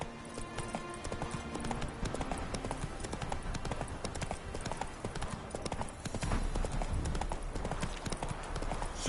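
Galloping hooves of a horse in the Witcher 3 video game, a fast, dense clatter driving steadily under game music and effects, the pounding growing heavier toward the end.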